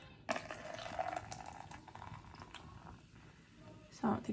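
Coke poured from a chilled drink into a frozen slushy maker cup, a soft close liquid pour and splash running under light background noise, with a brief clatter near the end.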